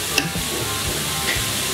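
Raw papaya stir fry with salt and turmeric is stirred in a hot pan, giving a steady close sizzle with soft scraping turns of the spoon throughout.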